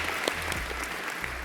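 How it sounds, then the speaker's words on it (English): Applause from an audience at a Mercedes VLE electric MPV launch, a short steady burst of clapping that carries through the whole moment at moderate level, with no talk over it. "can we give them a round of applause, please?"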